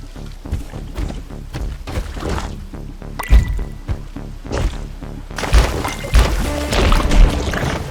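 Waterfall in the video game Skully, a steady rushing splash with heavy thumps and surges of spray that swell louder in the last few seconds, heard alone with no talk.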